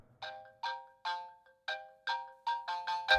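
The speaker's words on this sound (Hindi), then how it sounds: "फोन लगाओ उसे फिर से।" A phone rings on a call: a clean electronic ringtone repeating in short bright bursts, about eight pulses in quick succession, close and alone with no talk.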